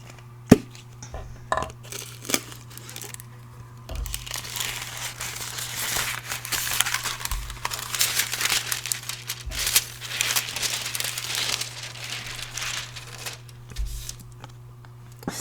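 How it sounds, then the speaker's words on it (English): Deco Foil sheet handled and laid over stamped paper ephemera gives continuous close crinkling and rustling, swelling in the middle, with a few light taps at the start and end. "Now we're going to be taking some Deco Foil and adding that across the top of these"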